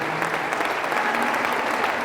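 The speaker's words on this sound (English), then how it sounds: "Let's have a nice round of applause." Steady, dense applause from a crowd at a high school football championship game between MHS and Medway, a continuous wash of clapping filling the whole stretch at even loudness.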